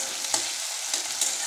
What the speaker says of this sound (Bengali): টমেটো দিয়ে ভেজে নিয়েছি